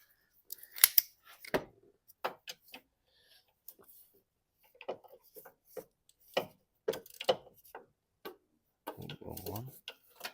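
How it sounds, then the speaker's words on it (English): A socket wrench works the tensioner on a Nissan engine during a cylinder three misfire diagnosis, giving sparse, irregular metallic clicks and ratcheting ticks, close and fairly quiet, with some low talking in between. "One of them sockets will fit the tensioner"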